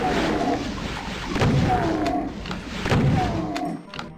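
A big gun firing in Doom 2, with heavy booming blasts at a slow regular pace, loud and close, layered with rumbling game noise and monster growls.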